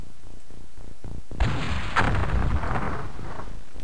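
Tank firing in the XCOM video game, a heavy cannon blast followed by a deep, rumbling explosion that rolls on for a couple of seconds, loud and close, after a few muffled thuds.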